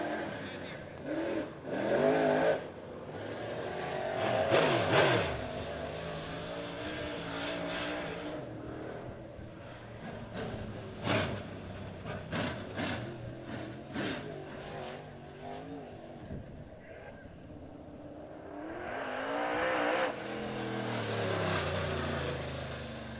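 USRA Modified race cars in a heat race at Monett Motor Speedway, engines roaring and revving past the front stretch, swelling and fading as the pack passes, with a track announcer talking over the noise.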